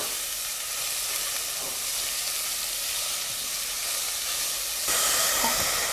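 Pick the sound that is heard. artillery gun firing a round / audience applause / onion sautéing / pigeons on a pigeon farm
onion sautéing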